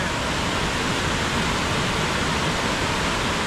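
Steady, loud roar of a waterfall in the rain, a dense broadband rush of falling water close by that never lets up, with no voices over it.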